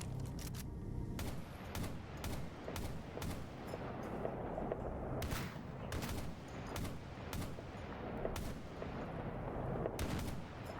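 Gunfire in the shooter game S.T.A.L.K.E.R. GAMMA, a firefight with repeated sharp shots cracking in uneven bursts over a steady background rumble, fairly close and prominent with no talk.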